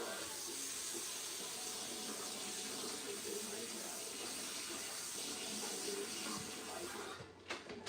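Water runs steadily into a cooking pot holding corn with butter, milk and honey, a constant hissing splash that stops abruptly near the end.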